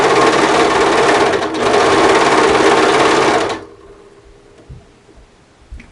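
Serger sewing machine stitching the fabric of a cardigan, a loud, steady close-up whir for about three and a half seconds with a brief dip, then it stops and leaves quiet room tone.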